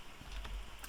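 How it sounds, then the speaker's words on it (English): Heavy rain pours down outside a house, a steady low wash of noise with faint patter, heard indoors and fairly quiet. "It's now chucking it down outside the house again."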